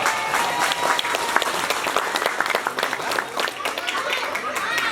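An audience at a Maulid Nabi gathering in a prayer hall claps for a team, a lively, uneven patter of hands mixed with crowd chatter and voices talking over it.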